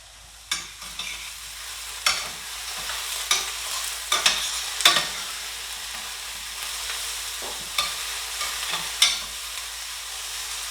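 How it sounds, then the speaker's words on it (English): Eggplant frying in a pan with onion, a low steady sizzle punctuated by repeated sharp clinks and scrapes of stirring, close and fairly quiet. "You can tell the eggplant is getting a nice crisp because I can smell it cooking"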